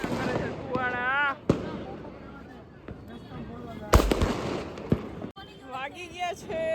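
Diwali firecrackers burst in Ahmedabad: three or four sharp, scattered bangs, one loud and close near the middle, amid steady chatter and voices from people nearby.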